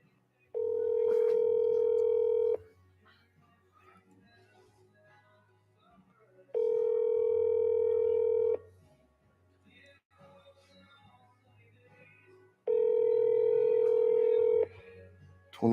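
A telephone call rings out with three long, steady ringback tones, each about two seconds long and spaced evenly, while low voices murmur quietly between them.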